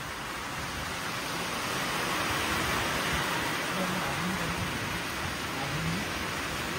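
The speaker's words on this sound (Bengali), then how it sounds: "রেল লাইনারটা খুললাম আর বৃষ্টি শুরু" Rain begins to fall at a petrol pump during a motorcycle ride, a steady, even hiss of drops spreading across the forecourt.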